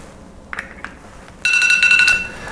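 A soil potash test timer goes off with a loud, steady electronic beeping alarm after a couple of faint clicks.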